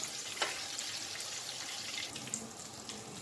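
Cheesy onion rings frying in hot oil, a soft steady sizzle and bubbling with occasional small pops, fairly faint and close.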